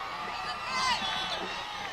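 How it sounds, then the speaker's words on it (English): Crowd cheering and whooping fills the stands at a 2004 high school Super Bowl football game between Brockton and Everett, a steady roar that swells briefly near the middle. "These crowds are pumped up this afternoon."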